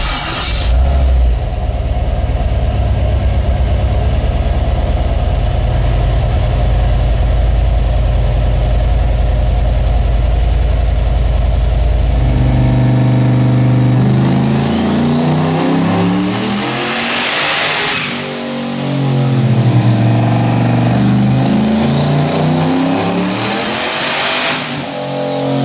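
A 1000 whp car engine rumbles at a loud, lumpy idle, then revs hard twice, each sweep climbing and falling back, close and with no talk.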